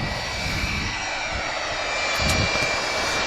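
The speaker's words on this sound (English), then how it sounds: "757-200 departing to Tenerife." A Boeing 757-200 departs from Manchester Airport, its jet engines roaring in a broad, steady wash that builds slightly toward the end, heard from a distance with no voices over it.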